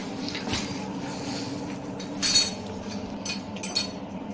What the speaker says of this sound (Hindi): अभी तो ये बर्तन भी जमाने हैं